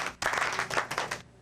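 A television studio audience applauds a contestant on a game show, a dense burst of clapping that starts abruptly and lasts about a second before stopping sharply.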